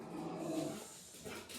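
Dogs fuss close by in a quiet room, giving whimpery, barking-like vocal sounds that run continuously, at moderate loudness and without speech.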